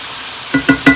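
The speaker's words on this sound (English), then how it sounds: "Just keep on breaking up the meat while you're browning it." Ground meat browns in a cast iron skillet, a low sizzle followed by three quick, loud scraping knocks of a utensil breaking up the meat, close and with no talking.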